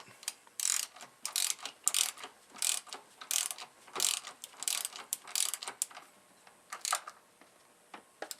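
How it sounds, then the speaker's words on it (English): A ratchet tightens two 14mm bolts on a Honda/Acura J-series V6 engine during a timing belt job. Close, crisp bursts of rapid clicking repeat in short runs with brief pauses between them. "Just two 14mm bolts that need to be tightened down, so let's go ahead and do that."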